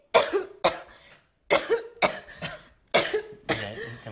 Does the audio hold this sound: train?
no